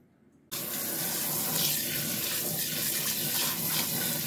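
Water runs hard into a sink, a loud steady gushing rush that starts abruptly after a moment of quiet and continues evenly, with no voices.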